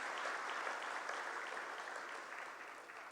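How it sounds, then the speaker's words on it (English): Steady audience applause at an awards ceremony, a dense even wash of many clapping hands that fades slightly over about three seconds, heard from a distance in a large hall with no talk over it. "Let's give them all a round of applause for continuing to be with us."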